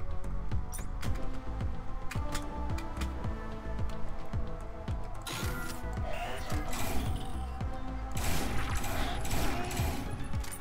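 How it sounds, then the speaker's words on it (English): Rapid bursts of gunfire in the video game Neon Chrome, with dense repeated shots stacking into fast volleys that continue throughout and grow busier toward the end. "Can you not shoot me in the face?"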